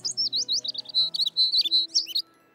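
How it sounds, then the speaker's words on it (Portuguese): A cartoon baby bird chirps in a quick, high, bright series of tweets, clear and up close, then stops. "Vou sentir saudades do passarinho bebê."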